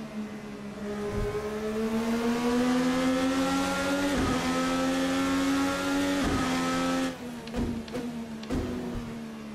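An IndyCar race car engine in the Assetto Corsa racing game screams at high revs, climbing through the gears with sharp drops at each upshift, loud and continuous throughout.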